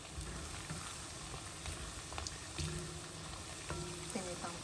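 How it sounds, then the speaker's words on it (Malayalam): Plantain chips frying over medium flame in hot coconut oil, a dense continuous bubbling sizzle held close and even, with faint clinks and stirring sounds scattered through it. "വെളിച്ചെണ്ണ ചൂടായിട്ടുണ്ട്, അതിനകത്തോട്ട് ഇട്ട് കൊടുത്ത്. ഓക്കെ, മീഡിയം ഫ്ലെയിമിൽ വെച്ചിട്ട് പയ്യെ വറുത്തെടുക്കുക."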